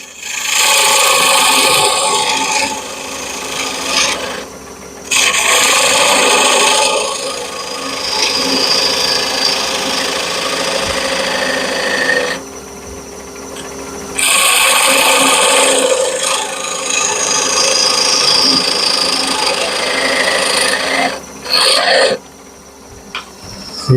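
A wooden part for a round whiskey smoker is tapered with a rasp, long loud rough scraping strokes in sustained bursts broken by short pauses, close and with no speech.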